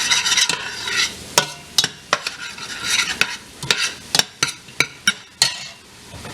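Turkey chili being stirred in a pot, the spoon scraping in a series of sharp, irregular strokes over a steady background sizzle, close and fairly loud with no talking.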